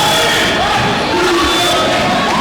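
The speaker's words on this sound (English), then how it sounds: "The crowd chanting defense." A loud, dense crowd roars continuously in a packed gym during a 2007 overtime boys' high school basketball game, Rogers at North Kingstown, with chanting and a voice running over the din.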